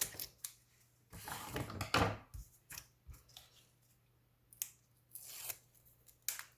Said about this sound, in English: I'm just going to use a little bit of double-sided foam tape just to attach this big label.